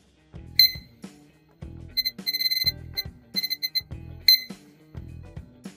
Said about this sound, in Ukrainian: Ось такий звук має будильник.